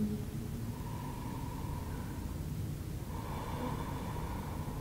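Slow, deep breaths during a yoga stretch, heard as a long, steady, noisy rush of air with faint tonal hum behind it.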